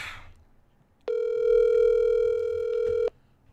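A single steady telephone ringback tone sounds for about two seconds, loud and close, with a quiet room before and after it.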